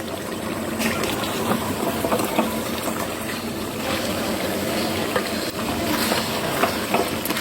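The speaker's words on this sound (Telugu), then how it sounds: "వేసుకొని బాగా మసాలా పట్టేలాగా కలగట్టాలి మష్రూమ్కి అంతా" Masala is stirred into mushrooms for mushroom biryani, making a continuous frying sizzle with scraping and mixing noises at moderate loudness and no talk.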